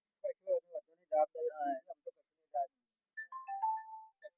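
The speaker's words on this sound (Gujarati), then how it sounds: "મારો ફોન આવ્યો" A mobile phone ringtone plays a short melodic tune of clipped synthetic notes, a halting run of beeps followed by longer sustained tones, fairly clear against a quiet background.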